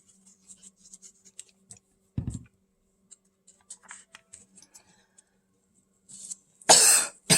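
One person gives a sharp, close cough, and later a louder harsh burst of coughing, among quiet light tapping and desk clicks in a small room.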